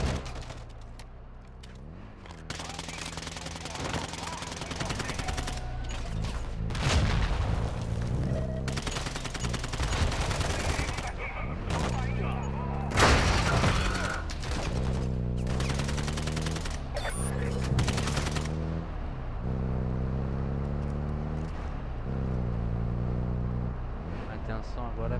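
Gunfire in Warzone DMZ aimed at the Bullfrog, a game vehicle: repeated loud bursts of automatic fire and sharp shots over a droning engine, with voices talking throughout.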